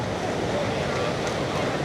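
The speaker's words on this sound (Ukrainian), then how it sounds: "Подивіться, яка сьогодні хвиля, величезне море, просто таке темне-темне." Big sea waves roll in on a crowded beach under dark water, a dense continuous wash of surf and wind that fills the whole stretch at steady loudness.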